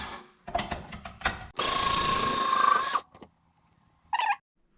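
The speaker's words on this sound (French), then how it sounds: "on va venir prendre une carotte que l'on va mixer" A food processor grates carrots for a raw vegetable salad: a loud, steady motor whir with grinding runs for about a second and a half, followed by a few clicks and a short final buzz.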